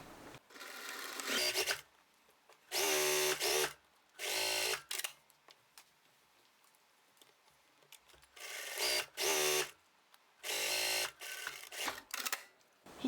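A sewing machine stitches the yoke side seams of a scalloped-lace skirt in several short whirring bursts separated by silent pauses, close and clear.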